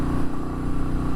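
Royal Enfield Meteor 350 single-cylinder motorcycle engine pulling steadily up a hill in fifth gear at half throttle, a close, continuous low thrumming drone with no gaps.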